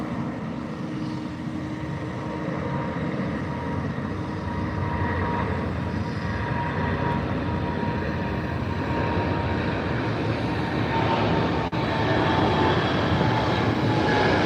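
Japan Airlines jet at Heathrow at night, a steady, loud broadband engine roar with a low hum that holds throughout without pause or talk.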